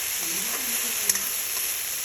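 Hot oil sizzles steadily with a crackling hiss as dried chillies and five-spice seeds fry for a taro stem dish, a faint murmur of voice underneath and a brief clink partway through.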